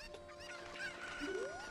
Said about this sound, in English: getting the chickens to go there faster